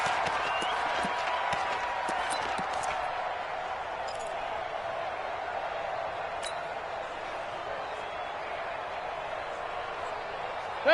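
A football stadium crowd roars steadily after a touchdown, a dense sustained wall of cheering that holds at an even level throughout, with a broadcaster's voice faintly under it.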